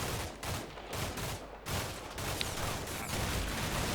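Gunfire from the Combat Mission Shock Force 2 war game: dense, continuous bursts of rifle and machine gun fire crackling throughout, with short pauses between bursts.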